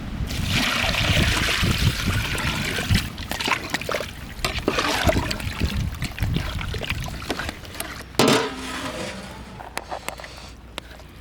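Water pours and trickles into a cooking pot with rock salt and turmeric for boiling chicken in a traditional village chicken roast, a steady splashing stream running continuously and fairly close.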